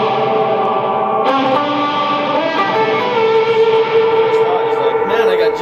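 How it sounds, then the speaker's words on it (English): An electric guitar runs through a distortion pedal feeding a reverb pedal, giving a gritty sustained chord that rings on with a smeared, uneven reverb tail, loud and continuous throughout. "Put a distortion on in front of it, as if I got that reverb pedal and just plug it straight into that."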